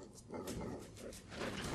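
Dogs bark and yip in the Broforce video game, a busy run of short barks over dense game noise, fairly loud and continuous throughout.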